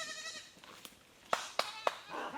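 Goats in rural Nepal bleat nearby, with a drawn-out cry at the start followed by several short, sharp bleats in quick succession against a quiet outdoor background.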